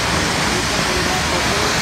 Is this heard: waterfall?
yes